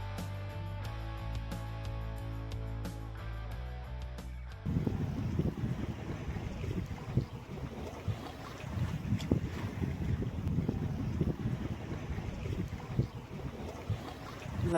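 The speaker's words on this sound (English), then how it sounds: "The wind is just starting to pick up a little." Wind rising around a sailboat under way off the Pacific coast, a steady broadband rush with gusty swells after a quieter opening of low tonal hum, continuous and fairly close.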